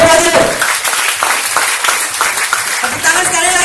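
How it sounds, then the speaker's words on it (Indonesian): Audience applause at a 4Life sharing event, a dense wash of clapping from a crowd that goes on throughout, loud and close, with speech mixed in. "Tepuk tangan sekali lagi buat Mas Rian ini."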